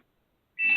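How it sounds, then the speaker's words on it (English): After near silence, a phone's text message notification starts abruptly, a steady electronic tone with a buzzy undertone, fairly loud and heard alone. "I'm getting texts coming through on my phone"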